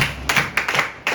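Hands clapping in a small group during a class or tutorial session, several short bursts of claps in quick succession, close and fairly loud, with no talk over them.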